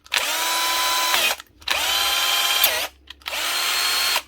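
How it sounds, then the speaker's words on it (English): A Bosch GSB 12V-15 cordless drill whines loudly in three bursts, about a second each, with brief pauses between them. Its pitch drops near the end of each run as it spins down, and it sounds close by. "they're a wild, comfortable, handy drill to use"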